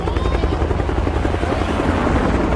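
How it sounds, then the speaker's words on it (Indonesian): Several military helicopters pass directly overhead in a film scene, their heavy rotor chop loud, steady and continuous throughout, with no other sounds rising above it. "ada beberapa helikopter militer yang terbang tepat di atas mereka"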